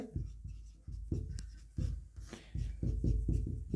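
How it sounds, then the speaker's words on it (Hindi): Pen or chalk writing notes by hand, a close series of scratchy strokes in short bursts with brief pauses, moderately loud and alone without talk. "तो लिख लेता हूं दोस्तों"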